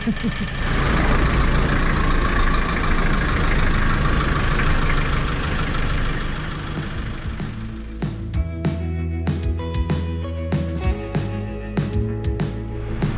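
An engine idles loudly and steadily during an exhaust emissions test, a low rumbling drone with rhythmic knocking pulses growing more distinct midway, close by with no voices.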